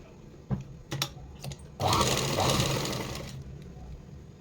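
Sewing machine stitching fabric: a few short clicking bursts, then a sustained loud whirring run of about a second and a half that fades off, close by with no talk.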